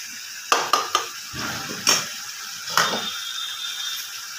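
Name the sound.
chicken meat being stir-fried in a pan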